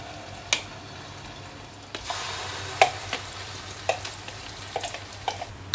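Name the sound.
chili sambal frying and being stirred in oil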